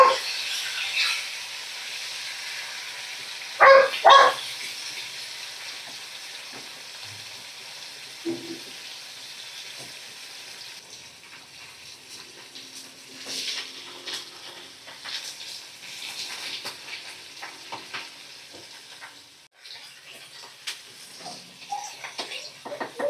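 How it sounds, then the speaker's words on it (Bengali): Fish fry in a pan, a soft intermittent sizzle and hiss with occasional louder spatters and scraping, quiet gaps between bursts. "মাছগুলো আমি এইভাবেই ভাজা করে নিচ্ছি"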